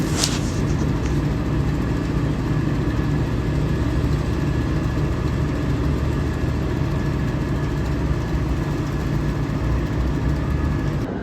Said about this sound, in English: here's the first scraper we got going that we didn't take the video of, but it's been running the last day and a half